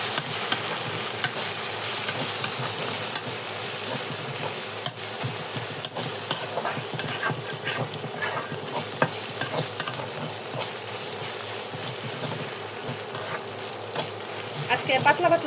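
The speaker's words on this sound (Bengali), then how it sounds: "এখন আমি আদা রসুন পেস্ট একসাথে দিয়ে দিচ্ছি। এটা একটু আমি হালকা একটু ভেজে নেব" Ginger garlic paste frying with onions in a pan for a country chicken curry, stirred continuously: a steady bright sizzle with scraping spoon strokes, close and even throughout, no talking.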